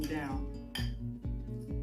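Avocado toast spread being mixed in a bowl, a few quick clinking and scraping strokes of a utensil against the dish, close and moderately loud, with a voice speaking over the start.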